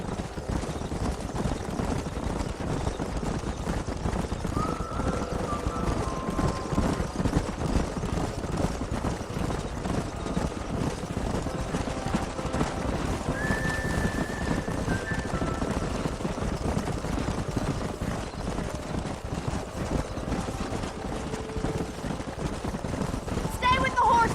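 Horses galloping across open ground in Red Dead Redemption, a continuous drumming of hooves with occasional whinnies and brief spoken lines over the top.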